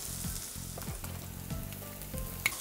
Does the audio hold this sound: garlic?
yes